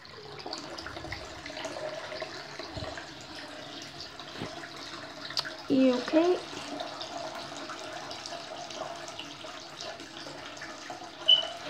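Cold water runs steadily from a tap, a continuous hiss and splash throughout, with a brief spoken question and a few clunks partway through.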